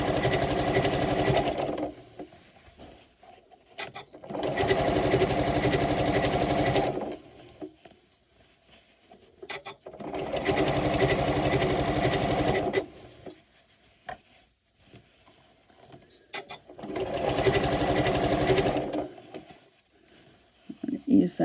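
A Janome sewing machine stitching fabric in four steady whirring bursts of a few seconds each, separated by quiet pauses. The motor hum is close and even, and a voice speaks in the gaps.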